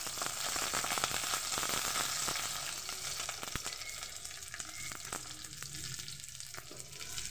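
Four dried red chillies and whole garlic cloves fry in hot oil for a loitta shutki dish, giving a continuous moderate sizzle with scattered crackles and stirring ticks, no talking.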